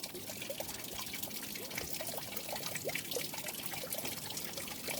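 Water swirling and trickling in a gold pan while crushed gold quartz is washed, a steady close sloshing and dribbling with no voices.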